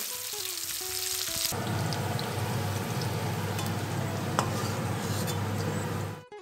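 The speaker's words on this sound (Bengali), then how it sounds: "পেঁয়াজ আর ক্যাপসিকাম হালকা করে ভেজে নিয়েছি, এবার আমি তুলে নেব।" Diced onion and capsicum fry in oil in a steady, loud, dense sizzle that runs almost the whole time, after a brief quieter stretch at the start.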